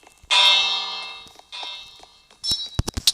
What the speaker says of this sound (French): j'aime bien appuyer sur la cloche